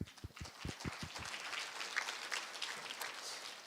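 Audience applause at a food regulatory agency heads' conference: a few distinct claps open, then a dense, fairly faint wash of clapping continues steadily.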